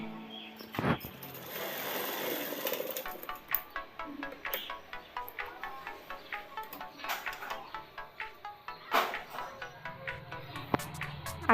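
A home sewing machine runs a double line of stitching on a katori blouse in quick, rhythmic rattling bursts, fairly close and moderately loud, with a couple of sharp clicks.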